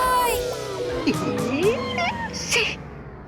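A cat meows a few times in a drama scene, with short rising and falling cries heard amid voices and background sound.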